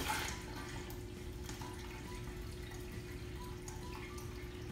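Water runs steadily into the return chamber of a JBJ Cubey 15G aquarium, a continuous close splashing and trickling with faint drips and no talk.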